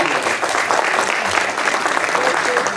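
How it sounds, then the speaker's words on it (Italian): Audience applause at an Italian talk event, steady dense clapping throughout with no pause, moderately loud and close. "un applauso"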